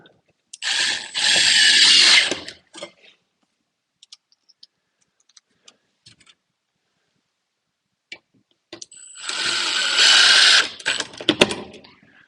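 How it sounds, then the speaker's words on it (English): A power drill drives a screw into a wall stud in a loft framing job, two close whirring bursts of a couple of seconds each, separated by quiet with small taps and clicks. "And throw a screw in."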